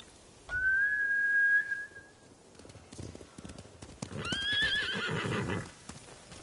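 Samurai horses in the video game Ghost of Tsushima return to their masters: a sharp whistle, then hooves clopping, and a loud close whinny, with no speech.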